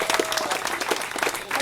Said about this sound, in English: Let's have a wonderful round of applause for our